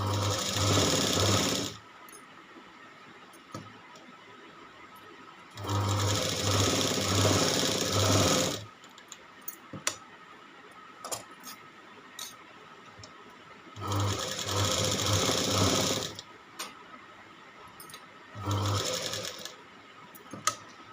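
Sewing machine stitching the back neck of a blouse, running in several loud bursts of rapid whirring stitches separated by quiet pauses filled with small handling clicks and rustles.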